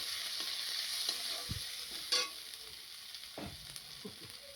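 Tomato, onion and ginger stirred as they fry in a pan for a Bengali okra and potato curry, giving a steady soft sizzle with a few scraping stirs and a brief louder clatter partway through.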